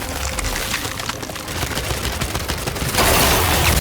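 Continuous dense gunfire in the Gears 5 shooter during a fight with a spiked monster, a steady loud rattle that swells sharply louder near the end, with no talk over it.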